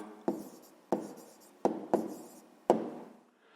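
A pen writes an answer on paper in five quick, scratchy strokes, each starting sharply and then fading. The sound is close and quiet, with no talking.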